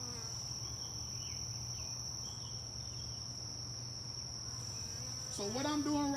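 Honey bees inside an open beehive give a steady, dense droning hum close by, holding constant for several seconds before a brief louder rustle near the end.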